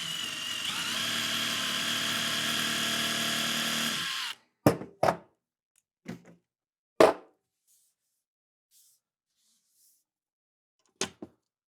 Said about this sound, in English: we're going to pre-drill that